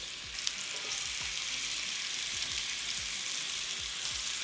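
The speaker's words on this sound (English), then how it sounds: "We'll transfer our potatoes over to our pan. And we're going to cook them on one side for about 3 to 4 minutes" Potato slices frying in a pan for fondant melting potatoes, a continuous, even, crackling sizzle with no voices, close and moderately quiet, with faint low thumps underneath.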